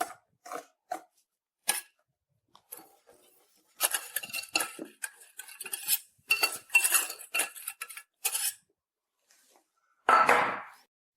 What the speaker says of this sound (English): with gentle movements, you can use a spatula or a whisk, stir either counterclockwise or clockwise